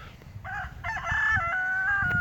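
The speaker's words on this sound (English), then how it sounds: "That's a loud chicken. Rooster, whatever." A rooster crows loudly and close by at a rural Tennessee home, one drawn-out cock-a-doodle-doo rising and holding over faint background noise, with some clucking around it.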